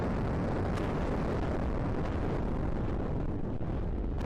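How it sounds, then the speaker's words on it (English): A steam explosion in a nuclear reactor as a power surge flashes the cooling water to vapor: a loud, dense roar and rumble that holds steady for the whole stretch, with no voices. "A steam explosion obliterates"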